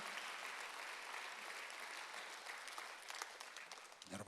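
Congregation applauding during a Korean church Sunday worship service, a dense, steady wash of many hands clapping that holds for several seconds, with a brief swell near the end.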